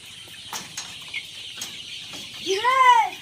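A chicken lets out a few faint clucks, then a louder, drawn-out rising and falling call at the end, heard close with little else around it.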